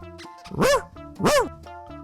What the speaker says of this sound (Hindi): तू क्यों भौंक रहा है?